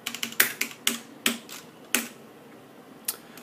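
A computer keyboard clicks under quick, uneven keystrokes as a search is typed, with sharp distinct taps in small bursts, close and fairly loud, trailing off into a few isolated presses.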